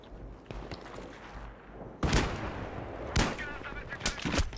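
Gunfire in the Battlefield 3 video game, with three loud broadband shots near 2, 3.2 and 4.2 seconds over steady low battlefield rumble and faint earlier pops.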